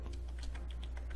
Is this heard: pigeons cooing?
no